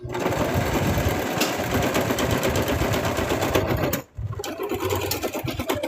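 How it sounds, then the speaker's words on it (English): Sewing machine driving its needle through thick plush material: a close, loud, rapid mechanical chatter that runs steadily, stops briefly just after four seconds, then resumes, with no talk. "You can actually hear the needle trying to press through all that material."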